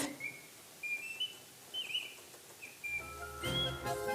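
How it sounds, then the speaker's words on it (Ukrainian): Artificial singing birds inside a mechanical music object trill and whistle in short warbling phrases, fairly quiet, followed by a few bright plucked metallic notes near the end. "Потім ще якийсь музичний об'єкт зі штучними пташками всередині."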